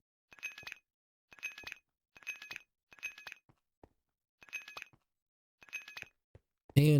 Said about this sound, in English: make a nice pretty little clinking noise when you plant them